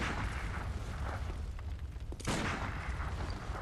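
Booming gunfire from a Hunter blunderbuss in the Bloodborne video game, a loud sustained blast with a second sharp burst midway, dense and close.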